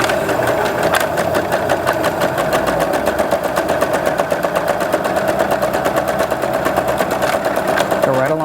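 A sewing machine stitching along the seam of an Ohio Star quilt block, running loud and steady with a fast, even mechanical rattle from start to finish.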